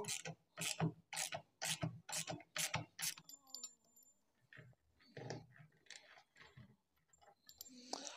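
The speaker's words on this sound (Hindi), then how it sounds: "सबसे पहले क्या करेंगे कि हम इसके नीचे वाले दोनों जो हैं वो स्क्रूज खोलेंगे" Screws come out of a front-load washing machine during disassembly, with a quick run of rhythmic ratcheting clicks up close, then quieter handling noises while someone talks.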